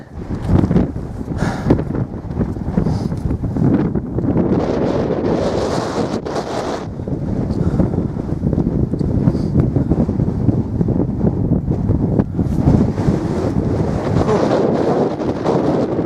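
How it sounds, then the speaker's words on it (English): Loud, buffeting wind roars steadily across the microphone on Sugarloaf Mountain, surging in strong gusts with no break for the whole stretch. "Oh, God, it's windy."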